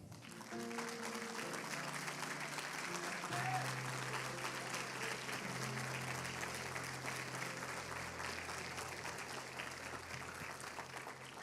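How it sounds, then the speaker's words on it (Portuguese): Congregation applauding during a church sermon, a long dense wash of clapping that swells and holds steady for over ten seconds, with faint music or a sustained tone underneath and no clear talk. "Aplauda ao Senhor"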